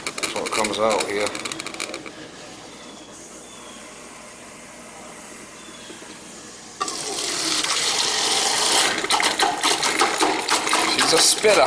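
A faucet at a summer home with air in the line spits and sputters water in loud, irregular bursts, goes quieter in the middle, then gushes hard again toward the end.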